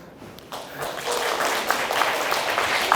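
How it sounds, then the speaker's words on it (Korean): Applause from a classroom audience at a training session for traditional market managers: a rising patter of claps that swells after half a second and holds steady, moderately near. "박수!"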